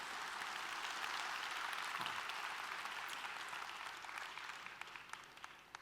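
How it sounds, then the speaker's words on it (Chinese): Sustained applause from a seated audience at a corporate regional leadership training event in Malaysia, dense steady clapping filling the room and tapering slightly toward the end, with no voices over it. "我们的掌声给所有出席者一个掌声"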